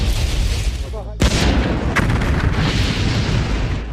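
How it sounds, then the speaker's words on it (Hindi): A sudden loud boom bursts out of a rumbling, noisy background as the Columbia space shuttle explodes, followed by sustained roaring rumble with scattered cracks. "कोलंबिया स्पेस शटल में एक धमाका हो गया है।"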